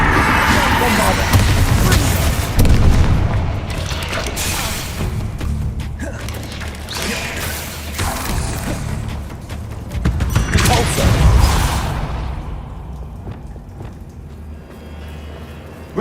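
In the Hogwarts Legacy video game, Bombarda blasting spells erupt in heavy, close booms and crashing impacts, with two main bursts around the start and later, amid continuous rumbling combat noise.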